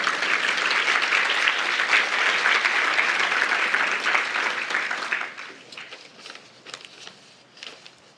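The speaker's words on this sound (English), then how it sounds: "So I think you need a round of applause for that as well." A luncheon audience at a pregnancy-center benefit claps in a dense sustained round that thins after about five seconds into scattered fading claps.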